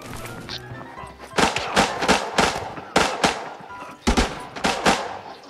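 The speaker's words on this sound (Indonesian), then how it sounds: "Tembak botnya." Rapid bursts of video-game gunfire aimed at a bot, several clusters of sharp, loud shots in quick succession after a quieter opening, with no talk over them.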